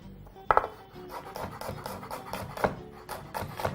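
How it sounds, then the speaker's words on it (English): Knife chopping garlic on a board, several sharp knocks at irregular intervals over scraping and rubbing sounds, close and fairly quiet. "We will also proceed to chop up some garlic."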